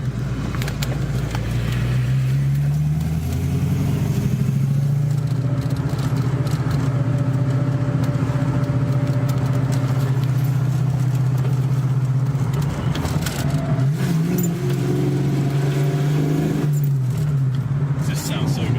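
A manual car fitted with a short shifter idles with a steady mid-pitched engine drone, rising into revs at points over roughly nineteen seconds, with people talking nearby.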